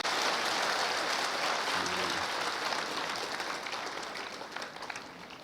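A church congregation at a Simbang Gabi evening Mass applauds, with dense clapping from many people that starts strong and slowly tapers off over a few seconds in a reverberant space.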